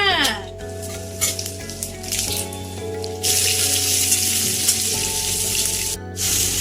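Meat and potatoes with turmeric sizzle and fry steadily in a pan as a Bengali home cook makes meat curry, with stirring scrapes and a brief splash of water near the end.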